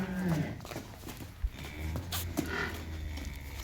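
Domestic buffalo on a farm, with a low bovine grunt, thuds of hooves and animal movement close by, loud and short, no clear speech.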